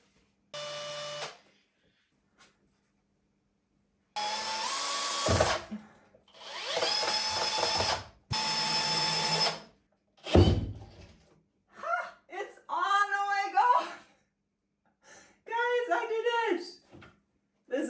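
A drill widens the top of a screw hole in wood so the screw head can sit flush, giving several loud whining bursts of a few seconds each, followed by a voice talking.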